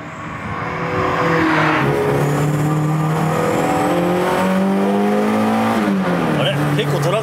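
A Toyota AE86 with a carburetted engine accelerates hard around Tsukuba Circuit, heard from inside the cabin: a loud, sustained engine note climbs steadily in pitch, drops briefly at a shift and climbs again, with someone talking over it.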